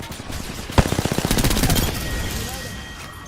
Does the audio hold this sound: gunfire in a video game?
yes